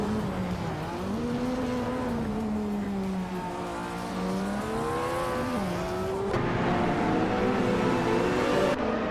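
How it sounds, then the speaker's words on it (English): A 1996 Opel Calibra DTM race car in a retro touring-car racing game, its engine droning steadily with rising and falling revs, loud and continuous for the whole stretch. "The Chaotic Weirdo is driving an Opel Calibra DTM from 1996"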